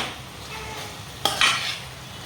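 Chicken curry being stirred in a pan, a soft sizzle under a spoon scraping the metal, with a sharp clink near the middle followed by a brief burst of stirring.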